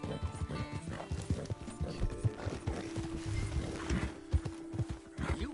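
Horse hooves clip-clop in a video game, a brisk irregular run of hollow knocks close by, with a sustained tonal hum underneath and a whinny-like sound mixed in.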